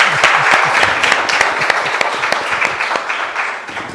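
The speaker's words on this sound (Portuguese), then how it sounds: "Salva de palmas para Carlos!" An audience claps for a contestant: dense, steady applause from a crowd, close and loud, tapering slightly toward the end with no voices.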